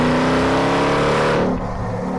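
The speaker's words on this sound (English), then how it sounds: "The engine is nuts. The sound it makes is brilliant." The engine of the world's highest-output pickup truck roars steadily and loudly while driven hard on a track, a dense sustained growl that eases slightly near the end.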